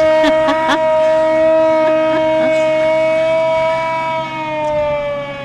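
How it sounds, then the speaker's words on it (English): An old hand-cranked siren on a vintage fire truck at a fire muster parade wails steadily in a long rising-and-holding tone, loud and close, with a few faint clanks at the start. "the old hand crank siren"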